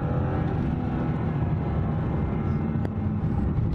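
BMW E46 330Ci engine running while the car is driven, a steady low droning hum from inside the cabin, loud and continuous with no talk over it.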